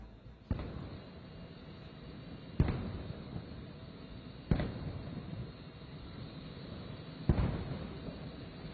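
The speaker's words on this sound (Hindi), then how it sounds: "21 तोपों की सलामी दी गई।" Four heavy cannon booms from a 21-gun artillery salute in Dhaka go off at intervals of a few seconds, each a sharp thud fading into a low rumble.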